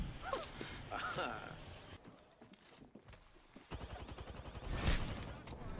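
Rapid bursts of Apex Legends gunfire crackle in quick, evenly spaced volleys, with a voice talking over parts of it.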